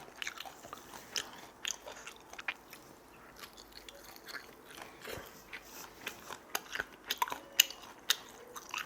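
Crisp crunching and biting of dried, brittle sand lance fish eaten whole, close up, with irregular bites and chews continuing steadily and no talking.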